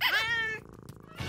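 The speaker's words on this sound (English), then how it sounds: "A kitten?" A cartoon kitten gives a high, tuneful meow that bends and wavers, loud and close, then fades into quiet background.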